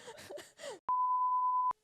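A steady single-pitched censor bleep, a bit under a second long, cuts loud and clean over a name right after a woman's French speech on a luxury-fashion podcast, then stops abruptly.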